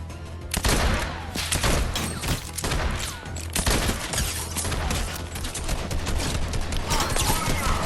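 Rapid bursts of gunfire in the Fortnite video game, loud and dense with sharp repeated shots and brief pauses between volleys, with no talking.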